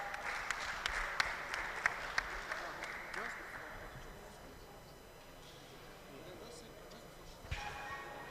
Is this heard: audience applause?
yes